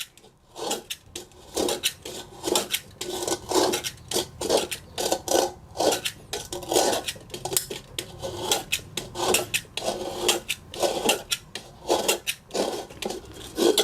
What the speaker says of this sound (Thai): คาบที่เรากำลังขูดอยู่นี่ครับ มันเป็นคาบที่เราสะสมมานะครับ